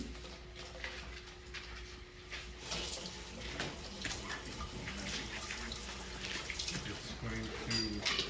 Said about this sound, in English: if I take some ammonium nitrate, okay, NH4NO3, and I put it in here, and I give it a good stir